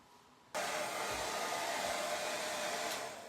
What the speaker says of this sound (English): so let's hit that with the blow dryer